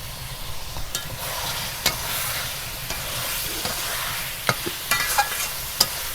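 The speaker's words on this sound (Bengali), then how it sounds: "সামান্য একটু জল দিয়ে আমি কষাবো মাংসটা, যাতে মশলাগুলো যাতে পুড়ে না যায়" Chicken kosha being stirred in a pan with spices and a little water, making a steady sizzle with intermittent sharp scrapes and clicks of the spatula against the pan, close and clear with no talk.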